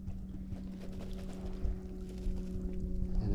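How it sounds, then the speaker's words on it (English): A boat motor runs nearby on the water during early morning porgy fishing, a steady low droning hum with a constant engine tone that holds throughout and swells slightly toward the end. "I said it sounds like a boat."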